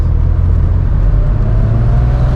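Right-hand-drive vintage Porsche 911 Targa with a 2.7-litre engine running loud and near, a steady low rumble carrying a thin, faint whine above it.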